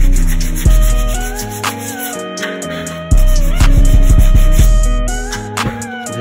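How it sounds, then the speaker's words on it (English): Bondo body filler being sanded with 80 grit sandpaper, heard as repeated close rasping strokes in an uneven rhythm. "let the sandpaper do its job."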